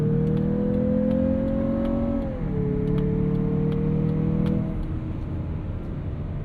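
A 2023 Mazda CX-50 with a 2.5 engine, in sport mode on Goodyear tires, accelerates with a smooth, steady engine tone that climbs, dips briefly at a shift, then settles into a lower hum with light road noise.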